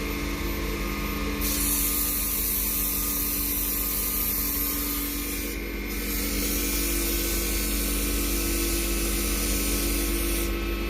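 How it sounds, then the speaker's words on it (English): Continuous close scratching hiss of fine-grit sandpaper, 320 to 600, rubbed by hand over padauk wood, steady and unbroken, with two brief dips in the high hiss. "I like to sand this direction."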